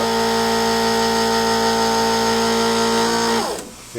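A shop press with a spring-loaded fixture rated around 1.5 tons, working to push out a bearing race: a steady, loud mechanical drone with sustained tonal whine that holds for several seconds, then cuts off abruptly, leaving near silence.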